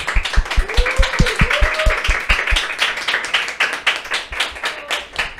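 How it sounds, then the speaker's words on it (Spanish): Steady rhythmic clapping from a small audience sending off a speaker at a church talk event, individual claps distinct and close, with brief voices weaving through the clapping. "la despedimos con un fuerte aplauso"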